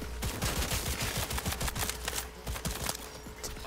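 Rapid gunfire in the video game Cyberpunk 2077, a dense run of sharp repeated shots with short pauses between bursts, fairly close and continuous for several seconds.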